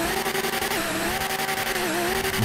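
Twin-turbo STO car in GTA 5 spinning its tires at a drag race launch, a loud continuous engine roar with screeching tire squeal and shifting pitch, no talking.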